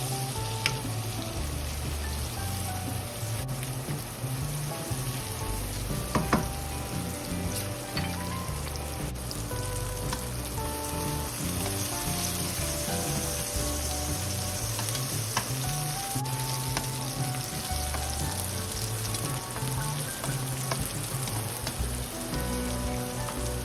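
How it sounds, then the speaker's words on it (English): Mushrooms fry in melted butter with a pinch of salt, giving a steady, dense sizzle and crackle that continues without pause for the whole stretch, with occasional stirring and no talking. "When the butter has melted, add the mushrooms and a pinch of salt."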